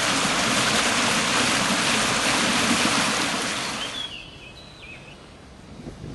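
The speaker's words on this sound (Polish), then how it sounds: "Niczym górska rzeka, a to tylko potok Westerplatte." Westerplatte stream rushing like a mountain river, a loud, dense, close roar of churning water that fades noticeably near the end, leaving a quieter flow with a faint bird call.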